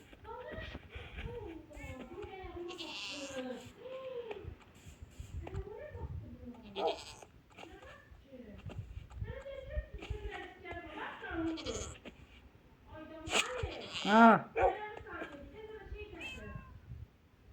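Repeated bleats and cries of a goat in Minecraft, several overlapping calls spread across the stretch, with some talk mixed in.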